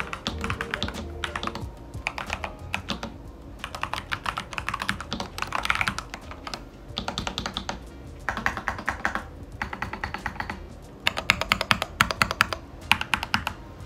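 Rapid typing on a roughly $100 mechanical keyboard at a desk setup, close and crisp, with bursts of keystrokes separated by short pauses and no talking.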